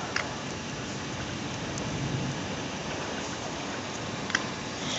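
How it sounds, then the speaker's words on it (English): Hard rain falls outside in a steady, loud, even hiss, with a couple of faint knocks and no talk over it. "If you hear noises like outside, that's just hard rain right now."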